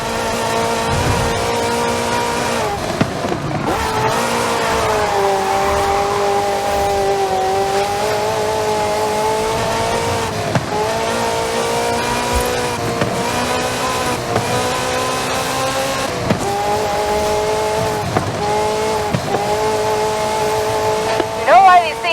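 A Ferrari sports car engine in Forza Horizon 5 drones steadily throughout, its pitch rising and falling with repeated gear shifts, loud and close, with a voice talking over it.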